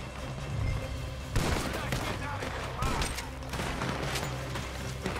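Western gunfire in Red Dead Redemption 2 cracks out as repeated rifle and pistol shots from several guns, loud and fairly close, with shots overlapping through a busy firefight.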